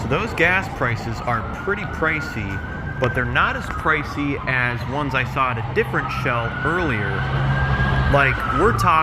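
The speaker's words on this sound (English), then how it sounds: "Pardon the emergency sirens there" Emergency vehicle sirens wail past a Shell gas station in Beverly Hills, a long wavering tone running through most of the clip beneath steady close-up talk and traffic hum.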